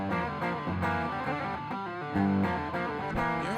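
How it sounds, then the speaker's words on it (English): A Gibson 2020 Slash Les Paul Standard electric guitar played through heavy distortion, with thick sustained chords and riffs ringing continuously, loud and close, with no talk. "You know how you hear the clean guitar on top of the distortion?"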